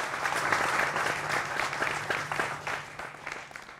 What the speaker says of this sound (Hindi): जोरदार तालियों से सभी का अभिनंदन है।